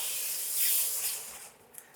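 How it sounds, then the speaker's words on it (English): Dry white wine hits a hot risotto pan with a loud, steady sizzling hiss that swells briefly, then eases and fades toward the end, with no voices. "I'm gonna add now the white wine. I've got here about 100 milliliters of dry white wine."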